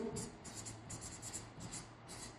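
A pen writing on paper, close and quiet, in a series of short scratchy strokes with brief pauses between them.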